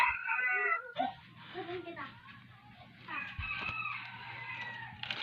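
A pet bird gives a series of squawking, crowing calls close by, with brief pauses and a soft human voice murmuring in between.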